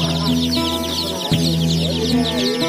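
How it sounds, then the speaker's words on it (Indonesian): A village rooster (ayam kampung) clucks and crows nearby with throaty repeated calls, accompanied by other chicken chatter and a continuous high rustling background, loud and close. "Ayam jantan maksudnya ayam kampung"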